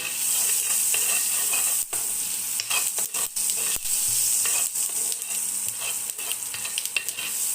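Flaxseed roasting in butter in a pan, a loud continuous close sizzle broken by frequent scraping, clattering spoon strokes as the seeds are stirred.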